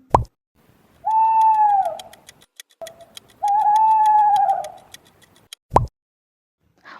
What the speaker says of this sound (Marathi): बरोबर हे घुबड आहे